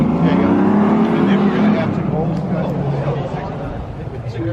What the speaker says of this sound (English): Volkswagen Touareg on mud tires.